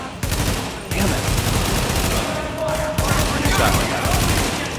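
Shotgun and other gunfire in a video game firing repeatedly in quick bursts amid a chaotic battle, with a player talking over the shots.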